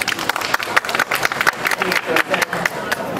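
An outdoor street-festival audience at the Osu Daido Chonin Festival claps to vote for a chanson, giving loose, uneven applause of moderate loudness with scattered individual claps.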